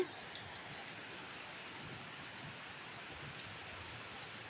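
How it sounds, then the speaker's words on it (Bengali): Steady rain falls outdoors in Durgapur, a soft even patter of drops on surfaces, continuous and moderately distant, with no voices. "এদিকে কিন্তু বৃষ্টি হচ্ছে, এ দেখো।"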